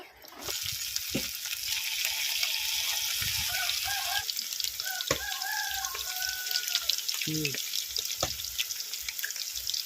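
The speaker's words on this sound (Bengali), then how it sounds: "বন্ধুরা আমি বাকি পকোড়াগুলো সব ভেজে নেব" Chicken pakoras frying in hot oil give a steady broadband sizzle throughout, with scattered clinks, brief tonal background sounds and a few faint voices mixed in.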